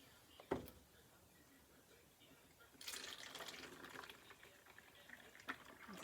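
Homemade coffee creamer poured through a funnel into a container, a soft liquid trickle rising into a steady pouring splash for a few seconds, preceded by a sharp clink and faint handling noises.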